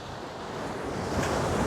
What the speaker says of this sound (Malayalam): സൂപ്പറായിട്ടുള്ള തിരമാലകളാണ്